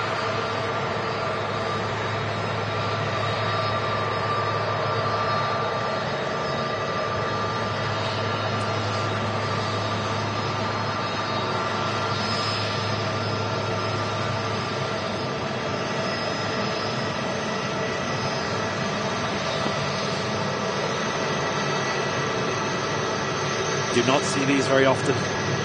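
A Turkish Airlines Airbus A330-200 jet at Manchester Airport gives a steady, distant roar that holds evenly throughout, with someone talking briefly over it.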